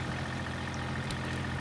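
A tractor engine runs steadily nearby, a constant low diesel rumble and drone with no breaks, while a loader bucket is filled; no voices are heard.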